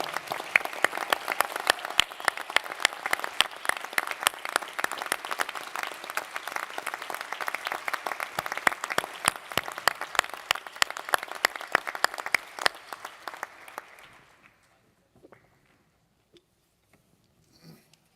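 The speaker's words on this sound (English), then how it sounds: "give a big round of applause for the people whose love and support got you here today" At a new lawyers' induction ceremony, the audience gives sustained applause for the families and supporters of the new lawyers. The steady clapping continues for about thirteen seconds, then fades and stops into near silence.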